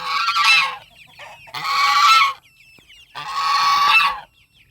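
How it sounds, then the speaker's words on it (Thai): Geese honk loudly and close by in three harsh, raucous bursts separated by short pauses. "เสียงห่านอีกเสียงดังอีก"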